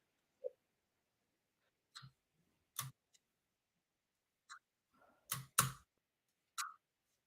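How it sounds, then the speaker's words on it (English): A loud computer keyboard gives a handful of sharp, isolated key clacks at irregular intervals during game programming work, with silence between the presses and no voices. "I hope my very loud keyboard is not failing me"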